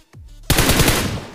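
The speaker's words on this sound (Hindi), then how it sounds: "बेफालतू में गोली चलाता हूं" Automatic gunfire in the mobile shooter BGMI (PUBG Mobile) bursts out loud and close after a brief lead-in, a rapid rattling volley with no talk over it.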